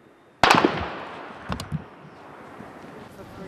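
A single sharp gunshot-like crack rings out from a distance during an armed attack on the US embassy in Sarajevo, followed by a couple of fainter echoing pops against outdoor background noise.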